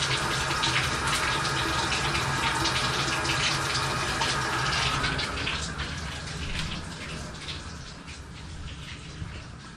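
Tap water runs steadily into a bathtub and sink after water heater anode and element work, flushing out rust; a continuous broadband rush that softens slightly midway, with no talking.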